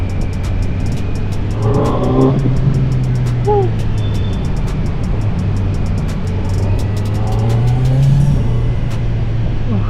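A Kawasaki Z900 motorcycle engine drones steadily throughout, rising and falling in pitch as it revs and shifts, fairly loud with road noise.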